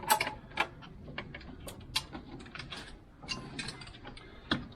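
Hand tightening of the nut fixings on a VW Polo 9N catalytic converter, heard as scattered metallic ratchet clicks and light tool knocks, close and fairly quiet, spread irregularly over a few seconds with no talking.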